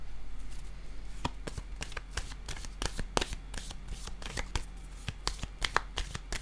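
Tarot cards being shuffled close up, a continuous run of crisp riffling slaps and flicks with irregular sharp peaks over a low steady hum.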